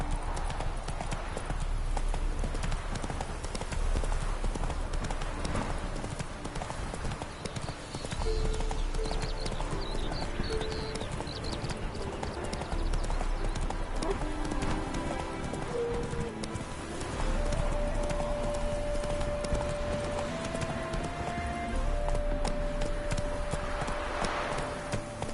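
Roach, a horse in The Witcher 3, gallops with a steady rapid clip-clop of hooves throughout, running under game music and ambient sound, with a voice briefly speaking.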